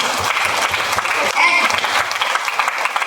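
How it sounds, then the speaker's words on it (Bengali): An audience claps together at a lecture, a bright dense burst of hand claps with some irregular rhythm and a brief whistle-like tone partway through, voices faintly mixed beneath. "এখানে কেমন করে তালি বাজানো হবে?"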